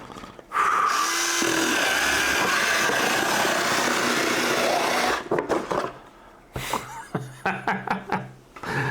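The built-in blade sharpener on HOTO EdgeFlow cordless electric scissors runs with a loud, steady motorized whir for about five seconds. After it stops, a series of short clicks and handling knocks follows.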